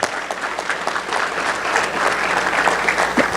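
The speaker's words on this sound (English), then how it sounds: "So let's give Joel a round of applause." Audience at a business meeting gives a sustained round of applause, dense steady clapping from many hands that continues throughout without speech.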